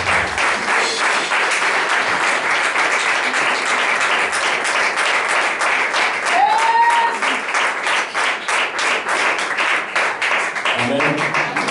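A church congregation applauds to acclaim Jesus, a dense, steady wall of clapping that fills the room throughout, with a few voices calling out over it.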